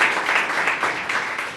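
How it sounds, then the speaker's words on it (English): Audience applause at a state comptroller's Pride celebration event, a brief steady burst of clapping from a seated crowd, fairly close and even throughout. "Give Tony another round of applause"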